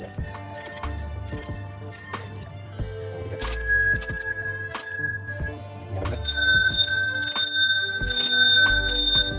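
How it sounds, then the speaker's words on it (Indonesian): Bright metallic bell ringing in repeated bursts of quick strikes, clear and close, with short pauses between rounds and no voices. "Nah, itu dia suara lonceng berbunyi."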